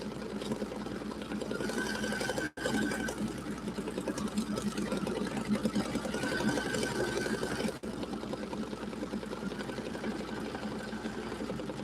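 A sewing machine runs steadily while stitching a quilt block, a continuous close mechanical whir that pauses briefly twice and carries on with no voices.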